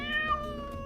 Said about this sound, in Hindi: ये बिल्ली की आवाज है।